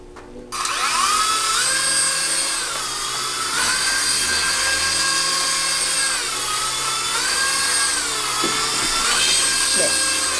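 A small handheld toy drone helicopter powers on, its tiny motors spinning up abruptly into a loud, steady high-pitched whine that wavers slightly in pitch, close to the microphone.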